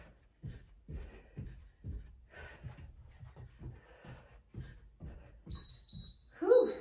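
A steady electronic workout timer beep sounds near the end, after a stretch of rhythmic footfalls from cardio side skips and movement with heavy breathing.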